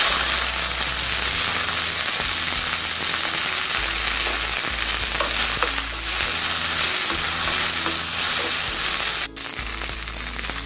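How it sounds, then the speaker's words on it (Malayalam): Curry leaves and popped mustard seeds sizzle steadily in hot oil, tempering a Kerala sadya kurukku kalan. A continuous close frying crackle with soft stirring scrapes runs throughout, with no talking. "വേപ്പില ഇട്ട് കൊടുക്കുക, കറിവേപ്പില."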